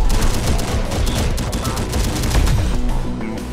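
Continuous loud gunfire from the video game Terminator: Dark Fate - Defiance, dense overlapping bursts and booms with no break across the whole stretch.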